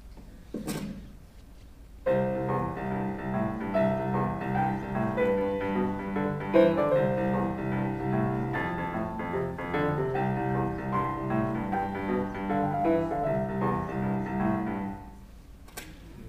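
A piano plays a rolling boogie woogie pattern in the left hand with chords above, steady and moderately loud, alone without talking.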